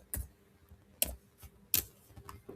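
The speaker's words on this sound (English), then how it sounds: "And now let me type any another city," Keystrokes on a computer keyboard while a city name is typed, three sharp distinct clicks spaced under a second apart with fainter taps between, close and alone without talk.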